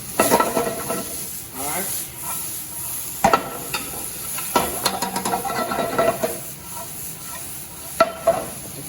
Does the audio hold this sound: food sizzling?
yes